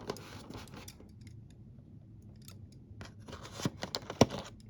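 Scissors snip through tape on a Mattel WWE Elite wrestling figure's packaging, scattered cuts at first, then a tight run of sharp clicks ending in one loud snap, close and alone without talk.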